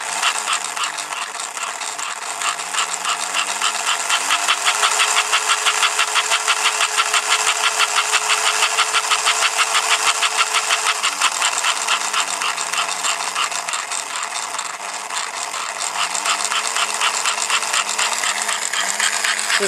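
An American Flyer engine runs with a rapid, even mechanical chatter of its piston, the steady clattering rhythm slowing and speeding slightly as its note dips and rises over about twenty seconds, close up with no voices.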